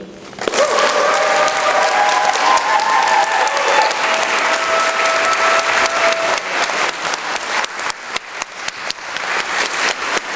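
A rally audience at a civil liberties protest breaks into loud, sustained applause, dense clapping that fills the space before thinning toward the end into scattered, uneven claps, with a faint voice briefly audible early on.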